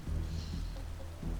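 Steady rain ambience from a video game's weather effects, a continuous soft wash of falling rain with a low rumbling undertone, faint and even throughout with no talking.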